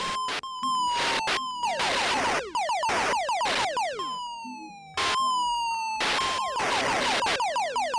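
Fast retro arcade shooter effects from an 8-bit game on a BBC Master 128 computer: repeated falling electronic zaps and bursts of noisy explosions, loud and relentless, with wailing siren-like sweeps.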